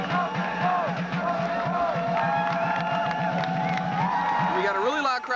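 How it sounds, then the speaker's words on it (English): Fans at a 1991 fraternity football playoff game cheer loudly, a dense wall of shouting, whooping and overlapping voices that keeps going throughout. "We got a really loud crowd today, Lloyd."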